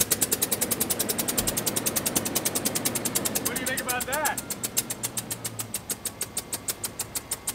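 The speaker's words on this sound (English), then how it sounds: "It's an exhaust leak." A Range Rover engine idles with a rapid, pulsing tick-tick from a large exhaust leak, steady throughout, while someone talks briefly over it.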